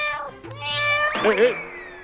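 Cartoon cat meows several times in quick succession, a rising and falling cry up close over a soft animated-show background, with voices around it.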